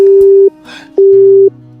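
Telephone busy tone after a call is hung up: loud, steady electronic beeps in two half-second pulses with a short gap between, close and without speech.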